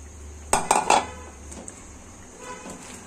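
Ash gourd pieces go into a metal pot of stinging catfish curry, three quick clanks of the utensil against the pot, then quiet, faint stirring.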